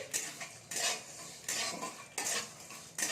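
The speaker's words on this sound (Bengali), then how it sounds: "দিয়ে ভালো করে আমি ভেজে নিচ্ছি" Dry whole spices (cardamom, dried red chilli, bay leaf, star anise) are stirred and toasted in a pan, with four bursts of scraping, rattling spoon-on-metal strokes and quiet gaps between, no talking.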